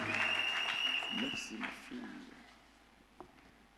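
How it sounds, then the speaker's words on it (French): A church congregation claps for loved ones during a Sunday service, a dense burst of applause that thins and fades over a few seconds amid room murmur. "Applaudissez pour nos bien-aimés"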